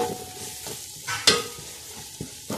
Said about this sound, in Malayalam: ഉള്ളി വഴറ്റിക്കൊണ്ടിരിക്കണം